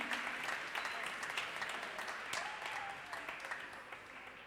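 Steady applause from a church congregation, many hands clapping continuously at moderate distance, with no voices standing out.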